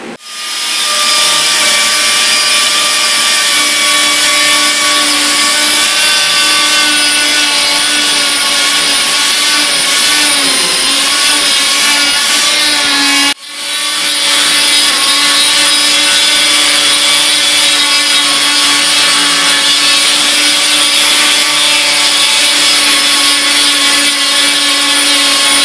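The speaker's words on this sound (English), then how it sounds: "I'll go to the mini grinder" Mini grinder power carving wood, a loud, steady high-pitched whine with a grinding edge that runs continuously for about 13 seconds, cuts out briefly, then resumes just as strong.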